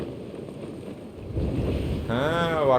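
Wind gusting between city buildings in Dying Light 2, a steady broad rush that swells louder partway through, with a brief tonal whoosh near the end.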